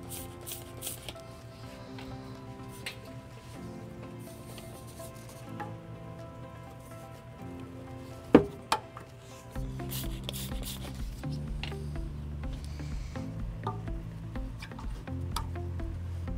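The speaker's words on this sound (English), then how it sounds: "We're gonna reinstall the rubber hangers that we previously removed, and we'll use some soapy water to ease that." Rubber exhaust hangers being pushed back onto their mounts under a 2020 Kia Sportage, lubricated with soapy water, giving squeaky rubbing and squishing sounds with a couple of sharp knocks, close and fairly quiet.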